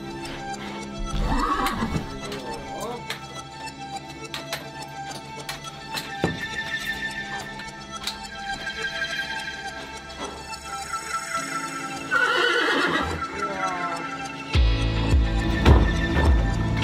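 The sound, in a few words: horse neighing and hooves in stables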